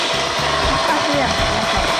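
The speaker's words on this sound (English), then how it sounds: "We're gonna emulsify all the ingredients that were boiled." A hand immersion blender whirs steadily through boiled tomato soup ingredients, a loud, continuous close-up motor hiss and churn that holds without pause for the whole two seconds.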